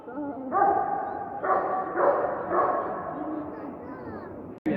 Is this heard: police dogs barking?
yes